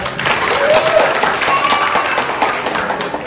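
An audience at a live music show claps loudly and continuously after two songs, a dense sustained applause that stays fairly even throughout.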